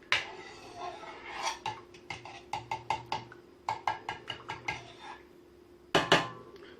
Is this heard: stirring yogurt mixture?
yes